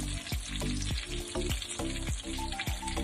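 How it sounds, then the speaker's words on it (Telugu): Fish pieces fry steadily in hot oil over a low flame, a continuous close sizzle broken by repeated soft pops and crackles, with no voices. "సిమ్లో పెట్టి వేస్తే ఇలా మాడకుండా మంచిగా వేగుతాయి"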